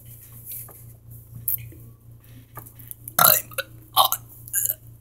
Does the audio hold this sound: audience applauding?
no